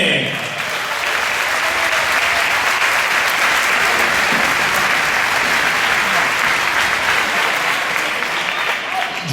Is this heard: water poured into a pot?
no